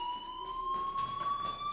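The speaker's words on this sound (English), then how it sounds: "Hey, do you hear that fire alarm?" A fire alarm in a PS4 video game rings as a continuous high electronic tone with steady harmonics, moderately loud, with faint background game noise and no talk.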